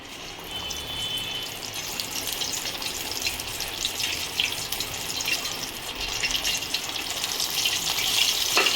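Cheese potato puris dipped in batter deep-fry in hot oil with a steady bubbling sizzle that grows slightly louder over time, heard alone.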